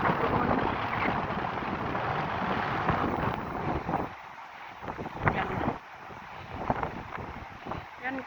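Strong wind blows at a seaside beach in Admiralty park, Bermuda, with rough waves, a loud continuous roar buffeting the microphone that eases after the midpoint into gustier bursts.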